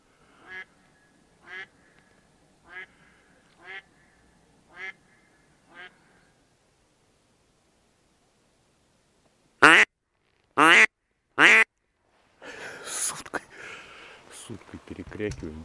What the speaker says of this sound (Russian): Тут сидит утка.